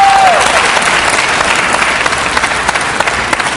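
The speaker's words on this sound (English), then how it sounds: "one more time, a round of applause for our 3 Innovation Challenge teams" Audience applause for three Innovation Challenge teams at an education event, a dense, steady roar of many hands clapping that thins slightly toward the end.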